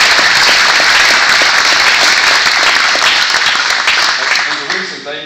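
A large audience at a political nomination event bursts into loud, sustained applause close by, with dense clapping that swells and then fades out near the end.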